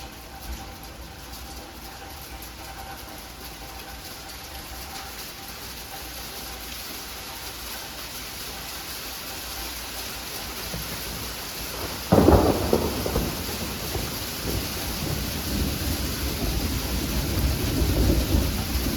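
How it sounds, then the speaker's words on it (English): Heavy sleet falling during a February thunderstorm in Norman, Oklahoma, a steady hiss of pellets, with a sudden loud thunder crack about two-thirds through and a rumble that rolls on to the end. "Oh yeah, that's definitely sleet."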